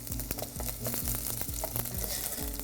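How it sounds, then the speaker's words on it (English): Onion cooking gently in a pan gives a steady, soft sizzle that runs continuously, with faint stirring clicks over it and no voices. "So we'll just cook the onion very gently,"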